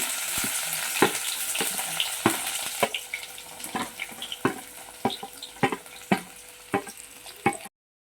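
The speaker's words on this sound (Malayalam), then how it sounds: "നമ്മൾ കടുക് ഇടാൻ പോവുകയാണ്. നമ്മൾ വെളുത്തുള്ളി ഇഞ്ചി കൂടെ ഇടാൻ പോവുകയാണ്." Mustard seeds, garlic and ginger fry in a pan of oil for a bilimbi pickle, giving a steady close sizzle broken by sharp, repeated pops and crackles at irregular intervals, with no voices.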